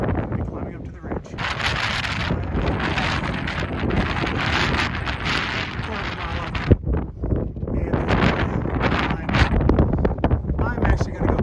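Strong wind roars across a mountain ridge trail in Grayson Highlands, buffeting the microphone in loud, continuous gusts with a brief lull near the middle.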